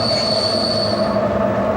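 Sharp, sustained metallic squeal of a heavy locomotive's wheels slipping on wet rail in rain, loud and continuous over a steady rumbling drone, heard from the cab.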